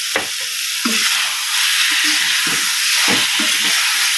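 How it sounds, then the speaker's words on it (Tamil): Mutton liver stir-frying in a pan with pepper powder, a steady hot sizzle and hiss broken by repeated scraping stirs of the spatula, close and loud, with no talking. "மிளகுத்தூள் சேர்த்து கொஞ்சம் நேரம் பிரட்டி எடுத்துக்கிட்டே இருக்கணும்"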